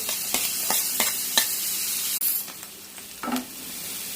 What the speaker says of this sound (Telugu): బటర్ వేసేద్దాం, చూద్దాం ఎలా ఉంటుందో. ఆనియన్స్ కూడా వేసేసుకుందాం, పచ్చిమిర్చి